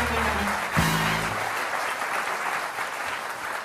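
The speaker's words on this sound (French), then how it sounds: "applaudissez dès maintenant Bernard de la Villardière qui s'installe dans ce fauteuil" Studio audience applause at a French television talk show as a guest takes his seat, a loud, dense wash of clapping that fills the whole stretch with low background sound under it at the start.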